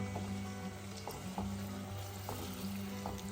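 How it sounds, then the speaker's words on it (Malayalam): Ghee crackles and sizzles in a pan of frying chicken for a chicken ghee roast, a steady, fairly quiet hiss with occasional soft pops over a low hum. "ഇതാ ഗീ തിളക്കുന്നുണ്ട"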